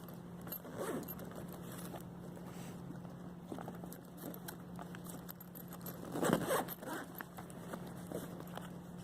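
Zipper pulled open in a few short bursts, along with rustling and faint jangling of small metal parts, close by with a steady low hum behind.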